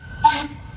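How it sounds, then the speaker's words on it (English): At a Shenandoah Valley steam and gas engine association parade, a steam tractor engine whistle gives one short, sharp blast that rises and quickly cuts off over low background rumble. "We're going to do a new steam whistle"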